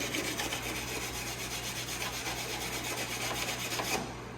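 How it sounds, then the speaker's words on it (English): A wire brush scrubs hard across the inside of an aluminum snowmobile tunnel to clear coolant residue before welding: a steady, close, rasping scrape for about four seconds before it stops abruptly, with no talking. "I'm taking a wire brush and really getting in there"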